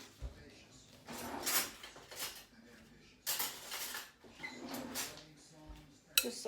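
A kitchen drawer slides and metal cutlery clinks and rattles as a spoon is pulled out, several clattering bursts close by, with a voice talking in between.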